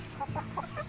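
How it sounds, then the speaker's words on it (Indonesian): An Indio Gigante hen clucks close by, four short soft clucks in quick succession, with no talk. "Wah ini betina indio giganten."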